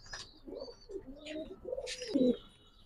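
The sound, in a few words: pigeons cooing at a pigeon farm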